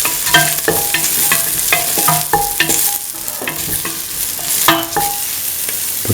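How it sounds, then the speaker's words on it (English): Duck for chili duck sautéing in a pan, a steady hot sizzle broken by repeated sharp scrapes and knocks of a utensil stirring the meat, close and fairly loud throughout. "Thoroughly saute."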